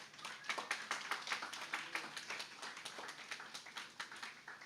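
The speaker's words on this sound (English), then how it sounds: "I think he deserves another round of applause" A round of applause at a Council of Ministers trade meeting comes through faintly as a small group's sharp, rhythmic hand claps, distinct individual strikes repeating steadily at a distance.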